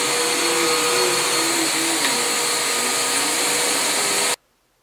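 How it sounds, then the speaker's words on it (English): A vacuum cleaner runs steadily and loudly, sucking a homemade orange-citrus carpet freshener powder out of a carpet, with a constant whine and shifting tone until it abruptly cuts off near the end. "so now I'm going to vacuum it up"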